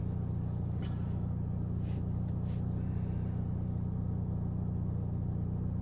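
Hyundai Elantra N driving at night, heard from inside the cabin as a steady, loud low exhaust drone and road rumble that holds constant throughout, with no talking.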